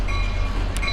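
A passing train rumbles low and continuous beneath steady tonal hum, with a brief brighter burst near the end.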